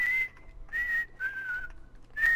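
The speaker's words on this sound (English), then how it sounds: "Who's whistling? Who is whistling like a Dumbo?" Someone whistles a melody in a Minecraft PS3 Hunger Games lobby, four clear sustained notes rising and falling in a steady, close, fairly loud rhythm with short gaps between them.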